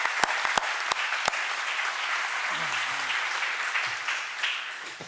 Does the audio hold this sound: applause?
yes